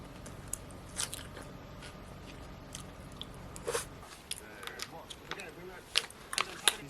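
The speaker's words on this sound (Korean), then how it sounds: "이렇게 반숙에 찍어 먹으면" Someone eats food dipped in a soft-boiled egg yolk, close up, with soft crunchy bites and chewing that come in small irregular bursts over a quiet room tone.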